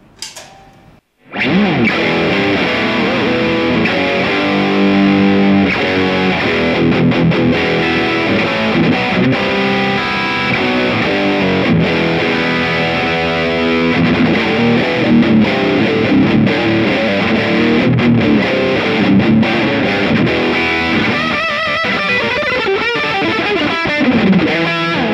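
A Clevan CF80FR electric guitar played through heavy distortion, with thick sustained chords and riffs filling the whole stretch loud and close after a brief quiet start.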